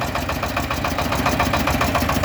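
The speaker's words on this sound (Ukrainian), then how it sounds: "Відвантажуємо найдешевший в Україні з китайських тракторів з кабіною Шифен 244." Shifeng SF-244 mini tractor with cab and single-cylinder diesel engine running close by, a loud, steady, rapidly pulsing chug with a knocking beat throughout.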